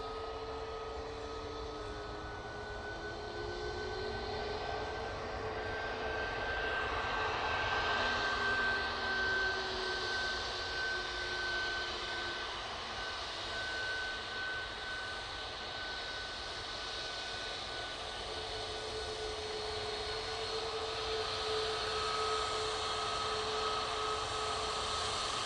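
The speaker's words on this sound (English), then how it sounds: "Ryanair massive in front of us. He's a 737 MAX 8." Ryanair Boeing 737 MAX 8 taxiing at Manchester Airport, a steady jet engine whine and drone heard from a distance, fairly quiet and unbroken, with no talking.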